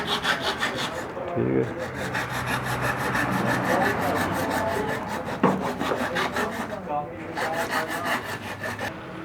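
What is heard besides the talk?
saw blade cutting a light fitting for LED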